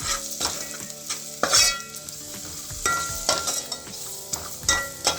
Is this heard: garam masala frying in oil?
yes